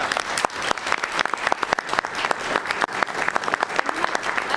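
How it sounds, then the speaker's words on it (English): Steady applause from a crowd at a city commission meeting, dense overlapping claps at a lively pace, sustained throughout with no speech over it. "give her a great big round of applause"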